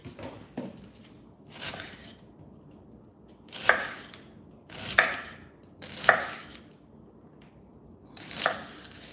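A knife chops an onion on a board in separate sharp strikes, some single and some in quick clusters, loud and close against a quiet room.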